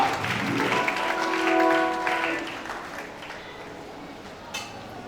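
Applause and acclamation from a congregation thanking a reverend at a graduation ceremony, a steady wash of clapping that swells in the middle and fades, with some voices mixed in.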